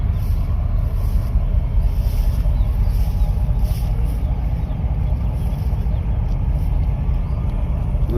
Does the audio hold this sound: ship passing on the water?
yes